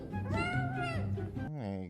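A cat meows in a drawn-out, voice-like call, then gives a shorter second meow, close and clear, sounding almost like speech.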